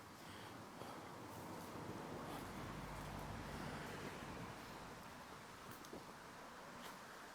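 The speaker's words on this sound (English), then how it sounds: "So there is just a little stream just running at the side." A small stream runs beside a mountain road in Europe, a faint steady wash of flowing water blended with wind and distant road noise, with no talk.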